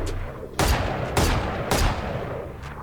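Weapon skin gunfire from the video game Valorant: three loud, punchy bursts of shots about half a second apart, then a fainter fourth at the end, over steady game background noise.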